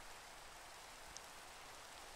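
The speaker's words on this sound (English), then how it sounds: "It's raining again." Rain falls steadily in autumn woods, a constant soft hiss of drops on leaves and ground with no talk, close and even throughout.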